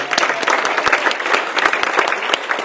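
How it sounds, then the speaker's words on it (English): Outdoor crowd at a Veterans Day event at a city hall applauds for the veterans, a steady patter of many hands with a few sharper nearby claps standing out. "Can I give it a round of applause for our veterans again for coming out today?"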